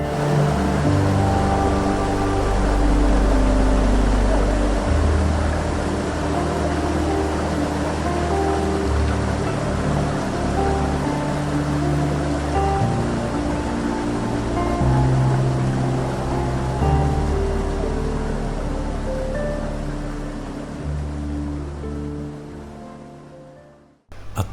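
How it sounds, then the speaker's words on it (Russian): A strong stream of water flows steadily at the Ein Mabua spring in the Judean Desert, a loud, continuous rushing that stays constant and close throughout before cutting off at the end. "Вот мы слышим сейчас сильный, хороший поток воды"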